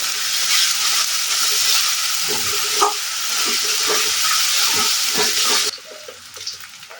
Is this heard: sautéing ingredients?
yes